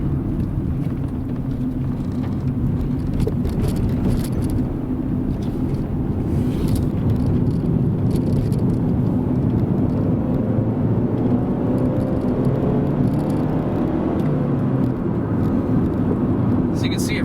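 Interior of a 1998 Honda Accord cruising on the freeway, with a steady low road and engine rumble and a broadband whir of tires and wind, continuous and fairly loud throughout.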